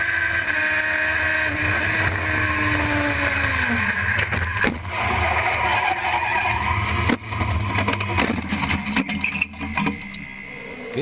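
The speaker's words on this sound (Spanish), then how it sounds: "Escuche el motor." A Chevrolet touring race car engine roars continuously on a circuit, its pitch shifting as it revs and gears change, with wind buffeting and brief crackles on the broadcast feed.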